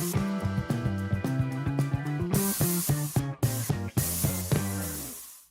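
Spray paint hissing in the game Spray Paint Simulator, a steady close hiss with rhythmic tonal beats underneath that cut out briefly now and then before fading at the end.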